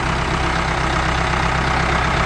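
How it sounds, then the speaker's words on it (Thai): A Ford 5000 diesel tractor engine idles loudly and steadily up close, with a deep, even rumble and a rapid chugging pulse throughout. "ฟังเสียงเครื่องกันนะครับ"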